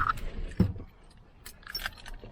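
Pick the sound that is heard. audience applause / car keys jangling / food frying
car keys jangling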